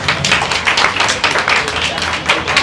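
Lively applause at a Diwali charity gathering, many hands clapping in a dense, steady patter with a few voices mixed in.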